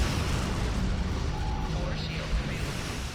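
Starship weapons fire at incoming torpedoes in the Star Trek Online space game: a dense, continuous barrage of rumbling booms and bursts, loud and close, with no clear gaps between shots.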